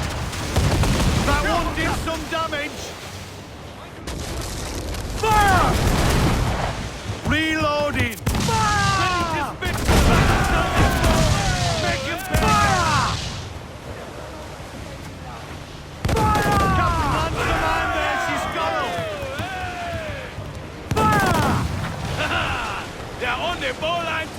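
Naval cannon broadsides in Assassin's Creed IV Black Flag, a series of heavy booming blasts in separate bursts with rumbling tails, over loud shouted crew commands and game voices.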